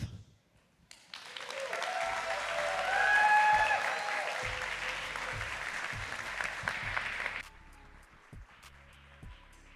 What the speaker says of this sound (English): let's give Tia another big round of applause